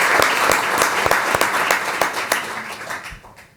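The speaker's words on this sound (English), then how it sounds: "So please, a round of applause for Zach." A small council-meeting crowd applauds a newly sworn officer with a burst of fairly close, distinct claps that grows sparser and fades toward the end.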